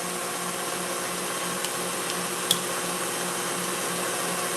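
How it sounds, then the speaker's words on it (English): An electric mixer whips egg whites for macarons with a steady, even whirring drone that runs throughout, a couple of faint clicks and a sharp tick breaking through partway. "I've got some volume in my egg white, so I'm gonna turn up"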